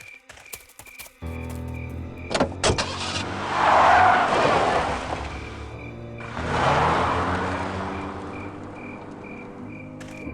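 A car driving in the remastered Full Throttle adventure game, engine noise swelling in two long passes over faint insect-like chirps, moderately loud with no talking.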